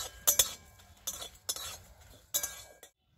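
Cumin, dried red chillies and coriander seeds are dry-roasted in a wok, with quiet scraping and clinking stirs in a few short bursts and a faint crackle in between.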